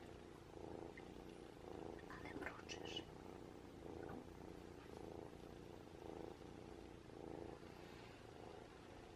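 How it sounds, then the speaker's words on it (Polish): A small cat purrs up close in a soft, steady rhythmic rumble of repeated breaths, quiet and continuous, with a few faint background sounds. "Ale mruczy."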